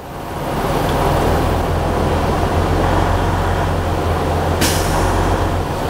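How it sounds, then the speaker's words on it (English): A Class A truck in the cab during a pre-trip inspection idles steadily, and partway through the air brake governor cuts out with a short sharp hiss of air. "So I'm waiting for my governor cutoff to come on."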